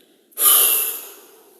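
A single long exhale during a guided relaxation breathing exercise: a breathy rush that starts abruptly after a brief silence, then slowly fades away, close and clear with no talking.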